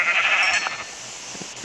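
Sheep bleat in Minecraft, a wavering mid-pitched cry that is loud and close at first, then fades. A few faint clicks follow, and no one speaks.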